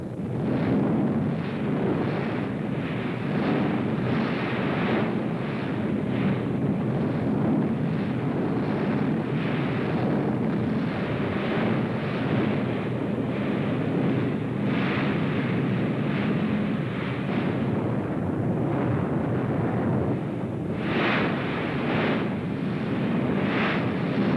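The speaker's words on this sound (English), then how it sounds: "Rocket guns, Katyusha, the Russians call them." Katyusha rocket launchers firing in wartime film footage, a dense, continuous roaring rush of rapid launches and booming blasts, loud and sustained throughout with no voices.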